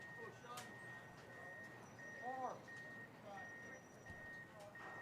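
Steady, evenly spaced reversing beeps from construction vehicles ring out at a distance behind a baseball game, continuing for several seconds under a commentator's talk and general ballpark ambience.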